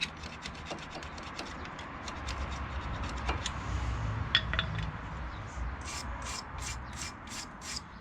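Stainless steel brake pad shim clips on a Peugeot Expert front caliper carrier being scrubbed clean, giving close, steady rubbing and scraping strokes with light metallic ticks, no voices.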